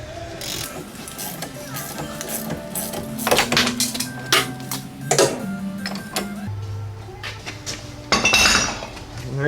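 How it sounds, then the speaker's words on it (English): A 1-1/16 inch socket drives an upper ball joint out of a wheel hub, giving irregular metallic clinks, knocks and scraping clanks at close range, with the pitch changing partway through. "I'm going to use the socket to push it all the way through for the rest of it"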